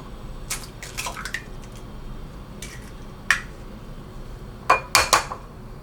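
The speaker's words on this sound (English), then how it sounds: "I have 4 eggs here, as you can see, so I'm just going to smash it into the bowl" Four eggs cracked one by one into a bowl for scrambled eggs: sharp clinking taps in small clusters, a couple early and a louder pair near the end, close up over quiet kitchen room tone.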